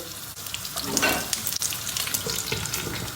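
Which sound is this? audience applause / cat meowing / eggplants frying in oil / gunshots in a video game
eggplants frying in oil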